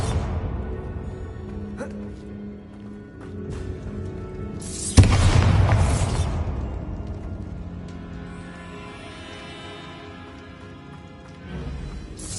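A Bombarda blast spell goes off in Hogwarts Legacy, one loud broadband boom about midway that decays into a rumbling tail, with game ambience and some voice-like sound around it.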